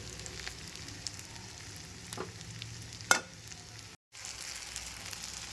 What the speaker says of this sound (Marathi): मिरची छान परतली आहे आपल्याला शिजवून घ्यायची का मिरची शिजत आली की अशी फुटते